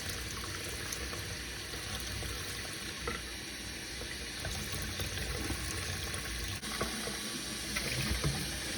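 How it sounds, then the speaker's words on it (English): A Lamy 2000 fountain pen barrel rinsed under a running sink tap, a steady close hiss of flowing water with slight splashing changes throughout. "I'm gonna again just rinse off the barrel."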